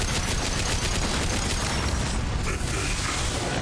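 Dense, continuous gunfire and mechanical clatter from the video game Mass Effect 2, a loud unbroken barrage of shots and booms filling the whole stretch with no clear gaps.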